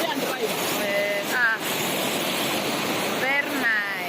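Rushing water at Ingwe Waterfalls, a broad, loud, continuous roar filling the whole clip, with faint voices briefly audible over it.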